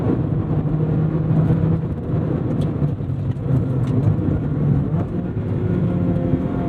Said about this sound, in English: With the exhaust too, I can really hear the engine.